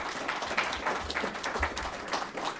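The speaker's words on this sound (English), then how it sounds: "if you could please hold your applause" An audience breaks into soft, steady applause at a public meeting, with clapping that sounds moderately distant and continuous, without voices.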